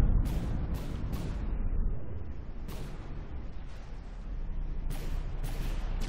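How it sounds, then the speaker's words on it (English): Tank ammunition detonates in the From The Depths combat game: a dense, roaring rumble of blasts, with several sharp bursts of cracking fire at the start and end over a continuous loud low roar. "very neatly contained explosion. One of the guns went off, detonated"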